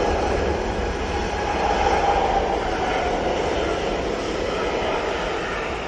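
A Jet2 Boeing 737 airliner at Manchester Airport gives a steady, fairly loud broadband engine roar that swells slightly midway and holds for several seconds, with no talking.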